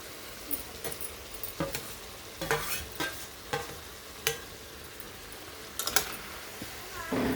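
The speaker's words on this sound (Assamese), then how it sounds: "আৰু মছলাখিনি এড কৰাৰ পিছত মই খন্তিৰে মাংসখিনি অলপ পালট কৰি দিম।" A spatula stirs duck meat coated in onion, garlic, ginger, pepper and dried chilli pastes in a hot pan, scraping in irregular clattering strokes over a soft continuous sizzle.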